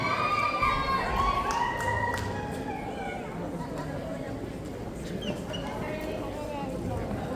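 An audience at a beauty pageant applauds and cheers to welcome a singer, with loud clapping and shouts at first that settle into a steadier crowd murmur, while voices call out over it.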